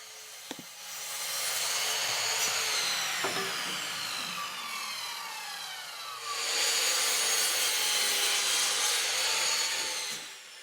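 Pallet wood plank cut into pieces for a sofa table, with two sustained bursts of harsh, loud tool cutting, a brief lull between them and a few knocks at the start.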